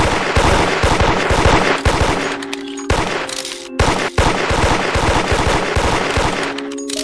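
Loud rapid gunfire in a Roblox horror game, dense bursts of automatic shots repeating steadily for several seconds with a couple of short pauses, close and dominant with no talk over it.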